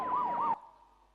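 A police jeep siren wails in rising and falling sweeps, loud and close for about half a second, then cuts off abruptly, leaving a faint lingering tone and low background hum.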